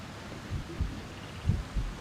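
A soft, low heartbeat pulses from a living egg in the Amerzone video game. Four muffled double-thumps arrive at a steady rhythm over a dull, hissing ambient background.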